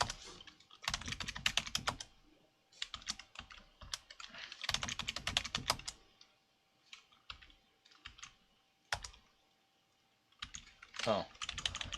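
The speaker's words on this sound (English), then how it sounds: "you gotta type in your password" Rapid bursts of keystrokes on a computer keyboard while a password is entered during an Ubuntu 20.04 install, clustered taps separated by short pauses, close and fairly quiet.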